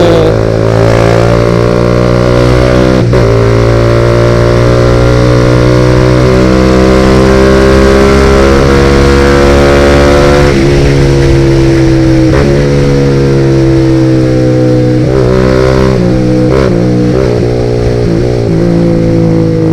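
A modified Suzuki GSX-R150 motorcycle engine revs loud and close, its pitch climbing in long pulls that are repeatedly chopped off by the quickshifter cutting ignition, then rising again.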